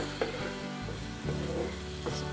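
Egg with chopped tomato and onion frying in a pan, giving a steady close sizzle with a few light stirring scrapes and taps, no voices.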